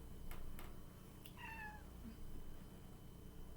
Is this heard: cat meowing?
yes